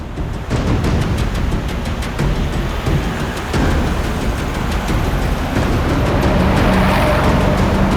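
A car drives at speed and swings through a turn during a chase, its engine roaring loud and close with a tire-scrub texture, steady for the whole stretch with no talking.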